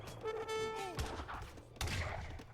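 Leather cannons firing on an Age of Empires 3 battlefield: a couple of heavy booming shots with a descending whistle, amid dense clattering battle noise, loud and close.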